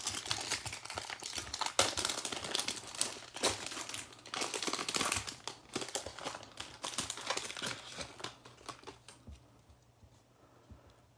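Foil wrapper of a 22-card basketball trading card value pack crinkles and tears open in close, busy bursts, easing into lighter rustling toward the end.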